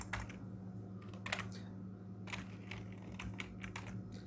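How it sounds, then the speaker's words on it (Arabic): Fingers type on a computer keyboard while data is edited in a spreadsheet, producing quiet, irregular bursts of clicking keystrokes over a low steady room hum, with no talking. "كتبت محمود بس"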